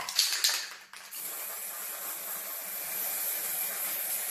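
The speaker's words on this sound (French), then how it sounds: "Et donc pour terminer, la bombe de peinture, donc pour revêtir l'intégralité du sapin." A spray paint can hisses steadily while coating a wooden Christmas tree white, a broad continuous spray close by after a few brief handling knocks at the start.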